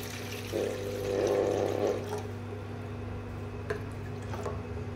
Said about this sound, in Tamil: அதில் இப்போ 1 டம்ளர் அளவுக்கு தண்ணியை ஊற்றுறேன்.